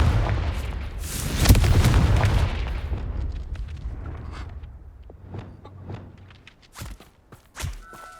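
A Confringo blasting curse explosion in Hogwarts Legacy: a loud booming blast with a rumbling tail that fades over a few seconds, followed by scattered lighter thuds and impacts.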